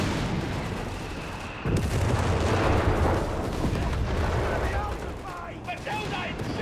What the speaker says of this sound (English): Got more artillery called in this time from the 254 here.